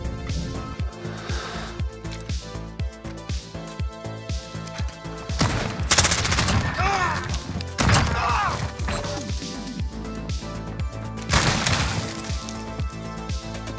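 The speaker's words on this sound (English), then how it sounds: "You have a pocket shotgun that shoots automatic rounds." An automatic shotgun fires rapid repeated blasts in a Search and Destroy match of a first-person shooter game, with sharp bursts and heavier crashes throughout.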